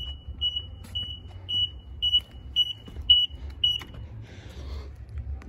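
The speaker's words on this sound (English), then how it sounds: "golf cart turn signals are not self-canceling, which is why you get the noise" Turn-signal indicator on a Midnight Blue Western Elegante 4-passenger golf cart beeps in a steady repeating rhythm, about ten short high tones close by over a low rumble, with no talking.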